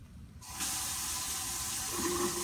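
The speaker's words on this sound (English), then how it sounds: "You're actually going to take this to your dirty sink, and you're going to pour it down the drain." Liquid from a urine sample tube poured into a sink drain, a sudden steady rush of splashing water that starts abruptly and continues evenly to the end.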